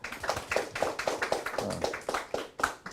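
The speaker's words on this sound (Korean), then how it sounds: "감사의 인사 박수로 보내드리도록 하겠습니다" Hands clap in a fairly even rhythm at a labour policy forum in Yangcheon-gu, a handful of distinct, fairly close claps marking thanks to a presenter rather than a full roaring ovation.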